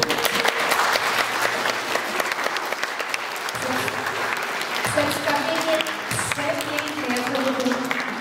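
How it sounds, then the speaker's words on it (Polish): Loud, sustained applause from an audience after a Christmas nativity play, dense clapping throughout with voices and some tonal sounds mixed in. "Naprawdę ogromne, ogromne brawa i gratulacje."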